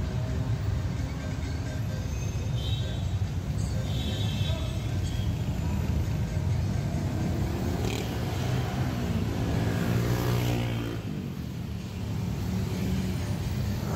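Motor traffic rolls into a contraflow lane on Ciledug Raya in South Jakarta as a continuous road roar with engine rumble and passing vehicles, loud and close throughout.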